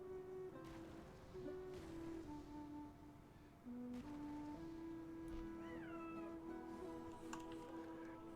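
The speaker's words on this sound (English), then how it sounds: "Cat making squeaky toy noises right outside my door." A cat outside a door makes a string of squeaky, drawn-out meows and chirps, fairly close but soft, repeated several times over a quiet background hum.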